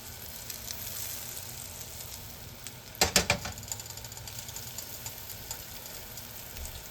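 A salmon patty frying in a pan gives a steady, soft sizzle throughout, with a short louder crackling burst around the middle before settling back to a gentle hiss.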